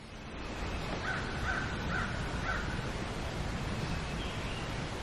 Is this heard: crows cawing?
yes